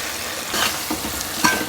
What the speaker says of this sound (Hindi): बहुत अच्छी से भुनाई करनी है हमने इसकी।